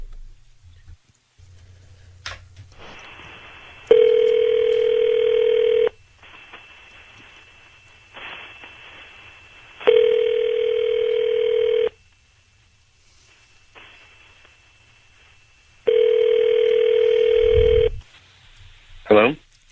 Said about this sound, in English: we're going to dial up your husband right now.